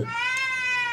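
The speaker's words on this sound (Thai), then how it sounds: "แมว" A single drawn-out cat meow, clear and close, from the Ju-On: The Grudge horror video game, heard alone without talk.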